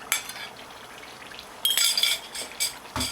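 Scrambled eggs poured into a frying potato mixture set off sharp bursts of sizzling and clinking stirring, separated by quieter gaps of low frying.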